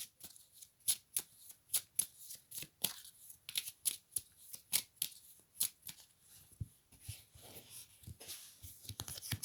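Tarot cards being shuffled by hand: a steady run of crisp, papery riffles and slaps repeating through the whole stretch, close and fairly quiet, with no talking.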